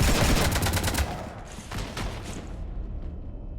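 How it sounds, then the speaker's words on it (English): Rapid automatic gunfire in Mass Effect 3 shoots up a ship, with a loud burst of rattling shots in the first second, then scattered further shots and metallic clatter tapering off. "You want to stop shooting up my ship?"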